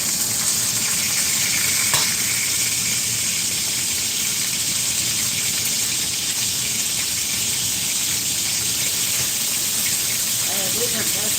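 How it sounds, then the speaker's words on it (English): Green beans blister in a hot pan with a loud, constant sizzle and hiss close by, with a few soft stirring clinks. "These are blistering nicely over here."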